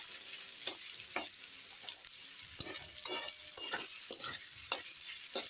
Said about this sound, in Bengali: বেরেস্তার জন্য এই পেঁয়াজগুলো দিয়ে দিলাম এই বেরেস্তার জন্য ভেজে নেব এখন একটু নেড়ে দিই এটা হাই হিটেই ভাজতে হবে